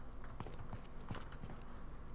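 Horse hooves from the Mount & Blade 2: Bannerlord video game, a steady clip-clop of a horse walking, evenly paced and fairly close over a constant background hum.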